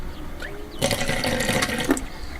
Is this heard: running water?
yes